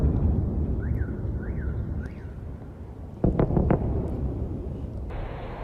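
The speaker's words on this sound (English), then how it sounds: "you can hear explosions if you can hear over me" Distant explosions in Kyiv during the Russian invasion: a low, rumbling outdoor background with a cluster of sharp, muffled blasts partway through, set against steady wind-like noise.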